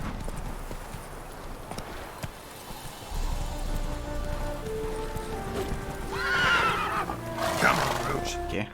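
In The Witcher 3, the horse Roach keeps up a galloping clip-clop of hooves and gives a loud neigh in the last few seconds, while voices talk over the action.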